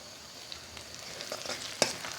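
Chopped tomatoes hit a pan with onion and garlic-ginger paste, giving a steady soft frying sizzle with faint stirring scrapes and one sharp clink near the end, fairly quiet and with no talking.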